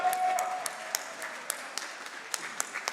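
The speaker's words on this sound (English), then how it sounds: "Please, a round of applause for the Team Auto team from Switzerland." Audience applause for a Swiss team at the Eurobot 2024 robotics finals in La Roche-sur-Yon, a thin scattering of claps with distinct sharp hand claps standing out, moderately loud throughout.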